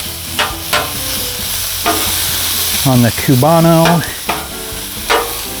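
Leftover pulled pork sizzles on a Blackstone griddle with a steady frying hiss and scraping stirs, while a person speaks briefly over the cooking.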